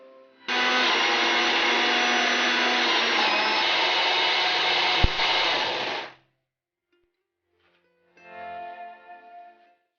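A blender purees cooked onions with a loud, steady electric whine that runs for about five and a half seconds, stops abruptly, and then after a short silence gives a second, shorter burst.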